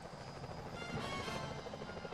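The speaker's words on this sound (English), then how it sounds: "Careful, Sly. Those security choppers are bad news." Security helicopters in a stealth platformer game fly overhead, producing a steady, pulsing rotor chop that throbs continuously and loudly throughout, with no speech.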